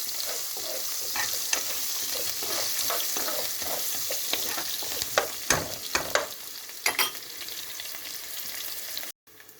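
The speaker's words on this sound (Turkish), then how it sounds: "Yine karıştırıyoruz." Steady sizzling of diced carrots frying in a pan, broken by repeated scraping and clattering strokes of a utensil stirring the pieces, fairly close.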